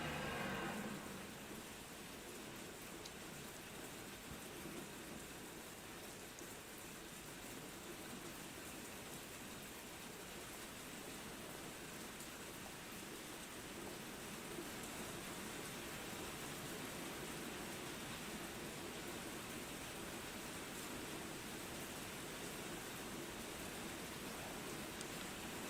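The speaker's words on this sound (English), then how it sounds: "Oh man, it's pouring rain." Steady, dense rain pours down without pause, a loud broadband hiss of drops drumming on surfaces, with no voices.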